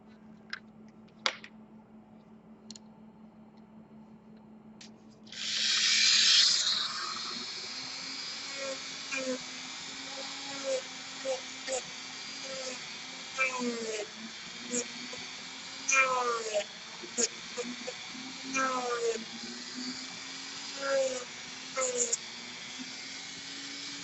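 A Dremel rotary tool bevels a piece with a steady high-pitched grinding whine that starts after a few seconds and runs continuously, with intermittent scraping accents and occasional talk over it.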